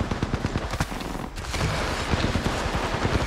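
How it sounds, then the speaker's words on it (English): Rapid gunfire bursts ring out in Apex Legends, dense rattling volleys of shots that pause briefly midway before resuming, loud and close with no talk. "Opening fire."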